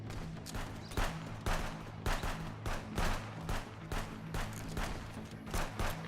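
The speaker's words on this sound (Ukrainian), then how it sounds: "Я ось патрони відстрілюю" Gunfire in the video game Contraband Police, with a border post under attack: repeated bursts of shots in irregular clusters over a steady low hum, loud and fairly close, with no talking.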